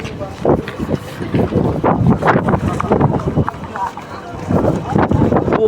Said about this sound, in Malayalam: ഭയങ്കര കാറ്റടിക്കുന്നത്.